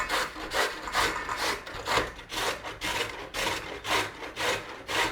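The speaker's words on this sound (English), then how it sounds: "So we're grating some carrots." Carrots are grated by hand on a grater in rhythmic rasping strokes, about ten even scrapes in succession, close and clear with no talk.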